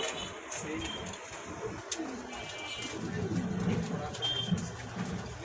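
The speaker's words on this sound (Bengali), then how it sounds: "দেখতে পাচ্ছেন এখানে দুইটা কবুতর আছে" Pigeons, a male and a female, coo in low, soft repeated calls close by, with faint background noise and occasional chirps.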